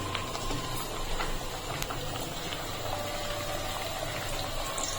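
A Dhakai paratha laid into a moderately hot pan gives a steady, continuous sizzle and crackle of frying, close and even, with no talking.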